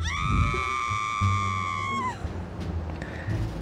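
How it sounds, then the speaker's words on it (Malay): A person lets out a loud, sustained high-pitched scream lasting about two seconds, which then breaks off into rough background noise and clatter. "Dia jerit."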